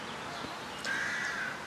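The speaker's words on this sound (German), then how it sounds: "Man kann auch hören die kleinen Krähen, die jetzt so allmählich entwöhnt werden." A young carrion crow being weaned gives a single drawn-out, hoarse caw at moderate distance against a steady outdoor background hiss.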